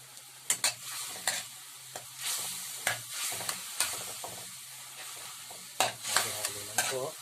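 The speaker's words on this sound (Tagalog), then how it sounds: "Halo lang po." Pancit canton noodles being stirred in a pan with sweet chili and oyster sauces, giving soft scraping and clinking stir strokes over a faint sizzle, with occasional sharper utensil taps.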